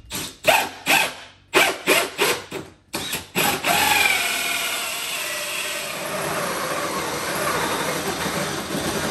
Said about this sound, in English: we're going to drill out this hole